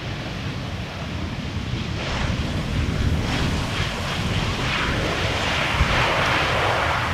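Aer Lingus airliner arriving from Dublin at Amsterdam Schiphol Airport, a broad steady jet roar with wind-like rushing that builds gently and holds for several seconds at a moderate distance.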